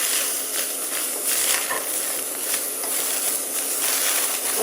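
Beans stir-frying in a hot wok for a Chinese vegetarian soup base, a loud steady hiss and sizzle with gentle surging pulses, close and continuous.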